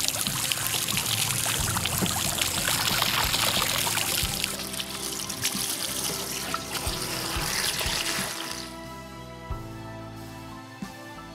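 Running water rinses over a Waydoo Flyer ONE electric hydrofoil board to wash off salt, giving a steady, loud splashing and pouring hiss that changes character partway through as the stream hits a different surface, then thins toward the end.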